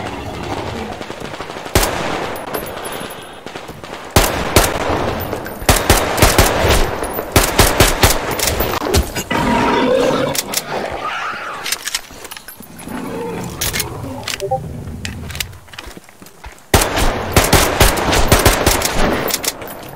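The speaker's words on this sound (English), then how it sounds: "I should not be wasting my bullets on them." Rapid gunfire bursts from weapons in the video game Metro Exodus, sharp repeated cracks in clusters with short pauses, loud and close, with no talk over it.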